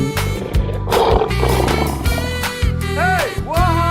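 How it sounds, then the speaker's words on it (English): A cartoon lion roars loudly over upbeat children's music, a full-throated roar followed by short rising and falling animal calls in an animated wild-animals video. "Lion."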